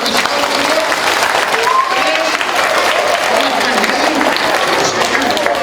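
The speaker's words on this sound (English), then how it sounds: "How about a nice big round of applause?" An audience at a police officer's presentation at JFK school gives a big round of applause, a loud, steady burst of clapping with a few voices mixed in.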